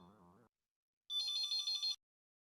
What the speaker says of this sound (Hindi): ये मक्खी जानी जी का ही फोन होगा।